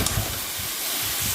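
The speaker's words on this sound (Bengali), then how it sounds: "দিয়ে একটু জল দিয়ে ভালো করে কষিয়ে নিচ্ছি" Ground spices with salt in a hot pan hiss and sizzle steadily as a splash of water goes in, a loud, close, continuous frying sound with no talking.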